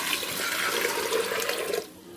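Water is poured into a pressure cooker holding washed chickpeas and a few spoons of moong dal. The splashing, rushing pour is close and steady, then stops abruptly after under two seconds.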